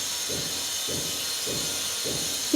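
Leftover chapati chitranna frying in a pan with salt, a steady close hiss of oil with regular soft stirring scrapes roughly every half second, no talk.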